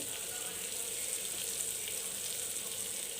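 Biryani masala with Kashmiri red chilli powder sautés in a pot for a smoked handi biryani, giving a steady, even hiss of frying, faint and constant, with no talk.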